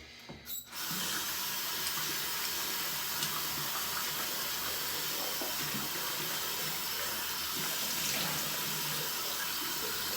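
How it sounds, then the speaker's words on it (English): A bathroom sink tap runs water for a face splash: a steady, continuous rush that starts abruptly after a brief pause and then holds close and loud. "splash some water on my face"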